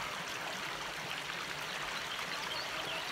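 Stream water rushing over a small homemade dam, a steady broadband gush that stays even and fairly loud for the whole stretch with no voices.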